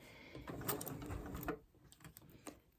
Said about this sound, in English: you're going to sew right along the diagonal line